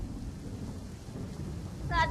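Heavy monsoon rain roars steadily over Amreli city with a low rumbling of thunder underneath; a voice briefly cuts in at the very end.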